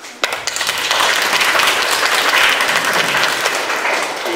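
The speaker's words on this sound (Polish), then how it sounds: "Podziękujmy oklaskami" An audience at a Polish biblical forum discussion breaks into applause, a loud, dense burst of clapping that starts abruptly and holds steady for several seconds before easing slightly.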